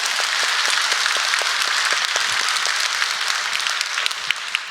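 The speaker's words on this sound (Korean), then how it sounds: "박수 치겠습니다." A church congregation breaks into sustained applause after a sermon, many hands clapping in a dense, steady wash that stays alone and fairly even throughout.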